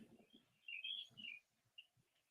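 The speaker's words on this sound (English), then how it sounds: "I think I hear birds." Birds chirp outdoors in a few faint, brief bursts of high tweets, quiet and somewhat distant, with soft low rustling underneath.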